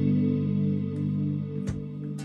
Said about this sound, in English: The Nimbus is my favorite big reverb.